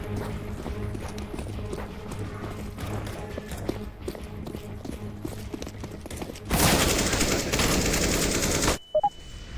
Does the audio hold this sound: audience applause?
no